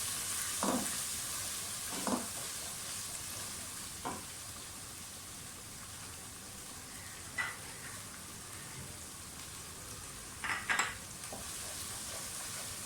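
Dried kasuri methi fries in a pot with a soft, constant sizzle, broken by a handful of light stirring taps and scrapes spread widely apart, quiet and with no speech.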